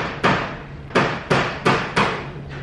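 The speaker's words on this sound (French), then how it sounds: "dans tous les villages en Asie, pas seulement en Birmanie, il y a toujours des coups de marteau." Hammer blows ring out in a village in Myanmar: five sharp, evenly spaced strikes, each with a short ringing decay, loud and close with no voices.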